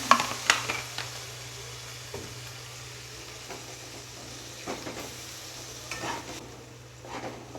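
Aloo dum in a pan sizzles softly as a little water goes in, with a spoon scraping and knocking against the metal in scattered strokes through a low steady frying hiss.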